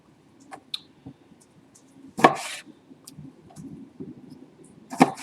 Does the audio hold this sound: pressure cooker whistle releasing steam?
no